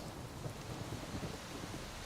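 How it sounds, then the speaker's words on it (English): Steady rainfall with a low thunder rumble in the stormy Skellige region of The Witcher 3 on Nintendo Switch, a faint continuous wash with no voices. "Oh, bit of rain here."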